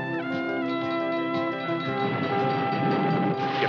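A departing train pulls out in a war-film setting, a sustained loud rumble of heavy rail cars under a long, steady horn-like blare with no talking.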